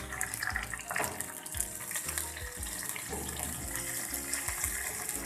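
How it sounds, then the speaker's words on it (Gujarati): Water poured into a hot pan of oil tempered with mustard seeds, chilli pieces and curry leaves for Surati rasawala khaman, giving a steady loud hiss and bubbling sizzle throughout, with no talk. "હવે તેમાં 2 ચમચી જેટલું પાણી એડ કરીશું."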